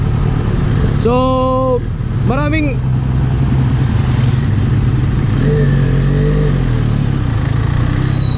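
A Benelli Leoncino Trail 500 motorcycle on a test ride, its engine droning loud and steady close to the microphone, with rising and falling revs. A rider's voice speaks briefly over the engine noise.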